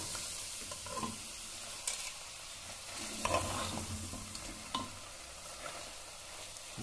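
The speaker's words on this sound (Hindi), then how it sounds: "मसाले को बिल्कुल अच्छे से मटन के अंदर मिक्स करना है, ये देखिए इस तरीके से चम्मच से जो है अच्छे से मिक्स कर लेंगे" A spoon scrapes and stirs spices into mutton frying in a pot, with steady sizzling underneath and a few louder scrapes spaced through the stretch.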